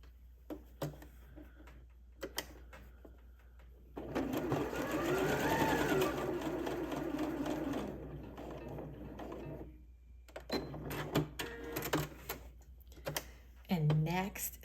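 A home sewing machine stitches within a seam allowance in a fast, rhythmic burst lasting a few seconds, framed by scattered clicks and handling noises and a short second run near the end; a voice speaks briefly in the quieter parts.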